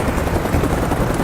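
A helicopter in flight during a movie action scene gives a steady, loud roar of rotor and engine noise that fills the whole moment with no break and no voices.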